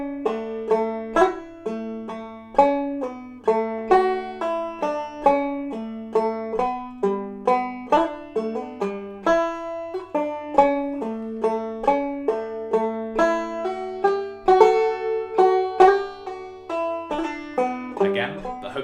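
Clawhammer banjo plays the A part of the jig The Hag With The Money, a steady stream of bright plucked notes in a lilting rhythm, close and unaccompanied for the whole passage.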